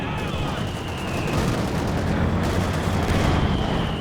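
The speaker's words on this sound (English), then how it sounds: "That was the Soviet mortar smoking that out" Soviet mortar shells fall amid continuous Eastern Front battle noise in Company of Heroes 2, a dense, loud wash of distant blasts and gunfire with no clear pauses.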